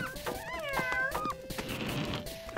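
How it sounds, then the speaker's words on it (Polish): A cartoon cat meows in a few rising and falling cries, bright and close, followed by a softer, lower vocal murmur near the end. "To kot."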